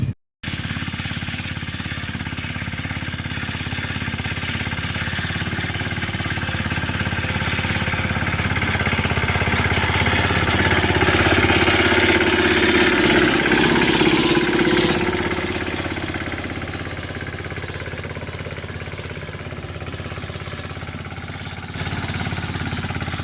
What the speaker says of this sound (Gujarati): તો આપણે ટ્રેક્ટરની દાંતી ફિટ કરીએ છીએ